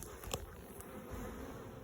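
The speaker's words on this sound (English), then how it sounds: "this is what happens when you crack open a hive. You see bees are everywhere" Bees swarming around an opened beehive stacked with a queen excluder and honey supers, a steady close buzzing drone with a few louder passes near by, no voices.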